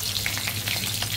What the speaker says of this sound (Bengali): ফোড়নে সরিষা দিয়ে দেবো, কালো সরিষা। কাঁচা লঙ্কা,